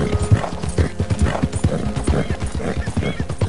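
A young foal's hooves clip-clop in a steady, close, fairly loud rhythm as it is ridden in Red Dead Redemption 2, without talk over it.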